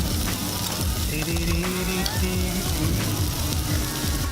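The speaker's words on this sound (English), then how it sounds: "So as my hamburger patties cook, I'm gonna start cooking some fried eggs." Hamburger patties sizzle in a pan over a gas flame with a dense, constant frying hiss and fine crackle throughout, close and fairly loud, with a faint low hum underneath.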